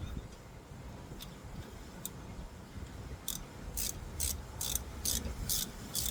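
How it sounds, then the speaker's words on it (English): A 3-way ratchet wrench clicks during an oil-change drain plug job: a few faint isolated ticks, then a steady run of about seven sharp, evenly spaced clicks over low background rumble. "That one's the 3-way ratchet."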